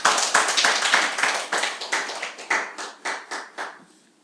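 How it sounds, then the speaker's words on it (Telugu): An audience at a Christian sermon claps hands in a quick, steady burst of loud slaps that gradually thins into a few slower, separate claps before stopping. "చప్పట్లు కొట్టండి కావాలన్నోళ్ళు"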